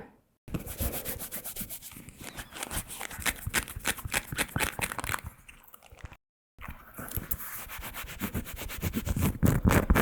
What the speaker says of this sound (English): What you're hearing there is an elastic nylon.